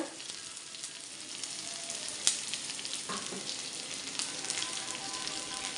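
Coconut oil, freshly bought from a coconut shop, is poured over leaves and flowers in a pan, giving a steady, moderately loud sizzle with a few sharper crackles. No one talks.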